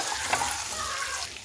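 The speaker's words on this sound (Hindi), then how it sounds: "उसके बाद हम इसमें दालचीनी का टुकड़ा डाल देंगे, 2 हरी मिर्च इसे डाल करके मिला लेंगे।" Cinnamon stick and two green chillies being stirred into melted butter in a pan, a steady close sizzle with scraping stir strokes throughout, no talk.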